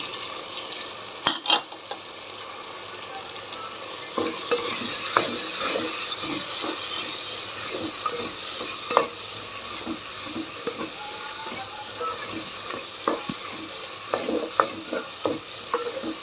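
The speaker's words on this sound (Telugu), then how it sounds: "ఇప్పుడు కొంచెం బాగా వేపుకోవాలి" Tomatoes and potatoes frying in a pan for drumstick sambar, a steady close sizzle under repeated sharp scraping and clacking stirs, with no talking.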